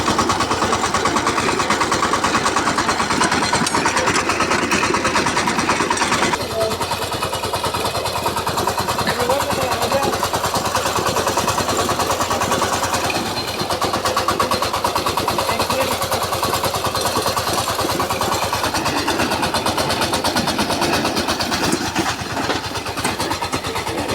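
A power tractor's engine runs continuously at a steady mid-pitched drone, close and fairly loud, with a slight shift in tone a few seconds in.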